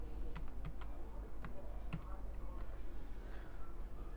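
Keys tapped on a computer keyboard while a phone model name is entered into unlocking software, a short run of light, irregular clicks over a steady low hum, with no voices.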